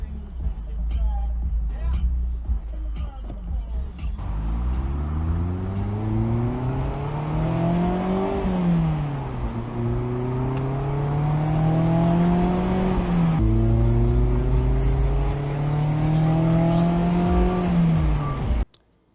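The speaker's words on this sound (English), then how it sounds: "gonna take the top down and then drive home real quick" A car is driven with its top down, the engine climbing in pitch through several gear changes over steady road and wind rush, heard close and fairly loud.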